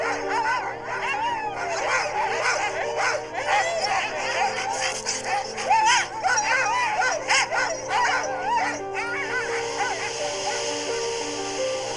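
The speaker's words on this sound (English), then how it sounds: "Greenland dogs are just perfect for these extreme expeditions in the far north." A pack of Greenland sled dogs yipping, barking and howling excitedly in a dense, overlapping chorus, nearby and loud, with whimpers mixed in over a steady background hum.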